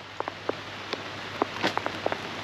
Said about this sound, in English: hang on, it's raining